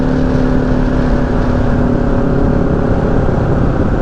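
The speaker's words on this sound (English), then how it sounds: "A lot of bikes coming through here today," Steady engine drone from motorcycles riding along Foothills Parkway, a continuous close rumble with harmonic hum and no clear pass-by peak, no talking.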